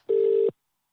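A telephone call rings out as a single steady low electronic ring tone that stops after a moment, followed by silence.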